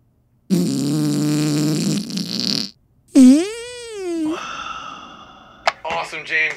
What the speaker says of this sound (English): Fart Foley work is a dying art